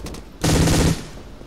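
K98 bolt-action rifle gunfire in the World War II dinosaur shooter game Dino D-Day, one loud, close, sharp blast with a short booming tail, alone with no talking.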